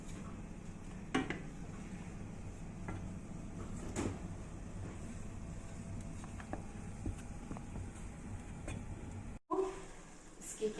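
A spoon steadily stirs and scrapes mutton lasagna filling in a pan with the gas just turned off, giving continuous close scraping and soft clinks, with a few sharper knocks and a brief pause near the end.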